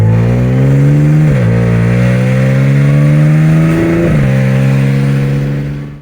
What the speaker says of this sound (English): We went ahead with test pipes, some titanium test pipes in there, which is great. But you gotta know, it sounds raspy.